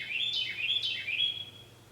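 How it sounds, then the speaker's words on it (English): Birds chirp in a forest at dawn around 6 a.m., with quick, high, warbling calls overlapping for over a second, then fading, moderately loud over a faint low hum. "the birds are waking up."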